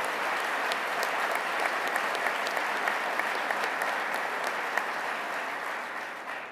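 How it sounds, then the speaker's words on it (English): A large crowd at the New York Regional Economic Development Awards applauds steadily, dense clapping holding at a constant level throughout before easing slightly at the very end. "Let's give Howard Zemsky a big round of applause"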